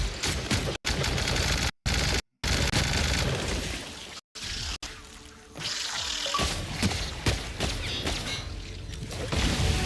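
Gunfire from a weapon in a first-person shooter video game bursts in rapid volleys, broken by short dropouts, with mechanical clanks and a watery hiss mixed in, all loud and close.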